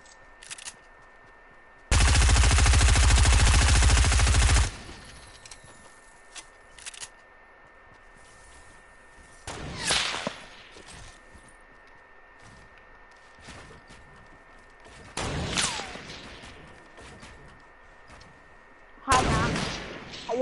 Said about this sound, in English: What was that shotgun shot, bro?